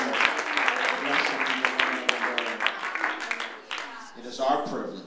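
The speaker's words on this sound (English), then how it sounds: "Clap your hands and give him a shout of praise to God" Crowd applause with many hands clapping together, loud and continuous, mixed with voices and shouting over the top.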